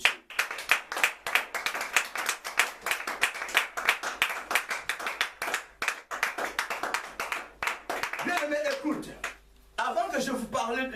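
A church congregation applauds in brisk, rhythmic clapping that fills the room, giving way near the end to a voice and some music.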